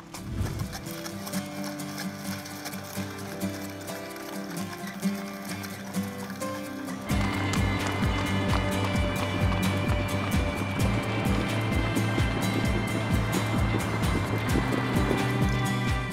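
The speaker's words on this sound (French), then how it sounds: "ce qui est très étonnant et très surprenant ici, c'est le nombre de chevaux. Ça fait beaucoup de bruit" Many horses trot together at a trotting-horse training stable, a dense, loud clatter of hooves that swells sharply partway through and continues steadily to the end.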